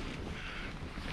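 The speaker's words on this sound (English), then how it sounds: "Quite windy." Steady, broadband wind rushing and buffeting against the microphone at a Lake District wild camp, with a low rumble of water underneath and no talking.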